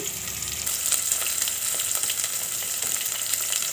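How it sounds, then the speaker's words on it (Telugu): Onions frying in oil for an Andhra-style bitter gourd curry, a dense, steady sizzle heard close up with faint stirring clicks, no talk. "ఇప్పుడు ఆనియన్స్ని యాడ్ చేసుకోండి ఇవి బాగా ఎర్రగా వేగనివ్వాలి"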